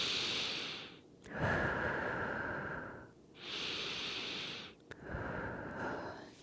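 Slow, deep breaths during a yoga stretch, with two long inhale-exhale cycles heard close and clear and nothing else in the background.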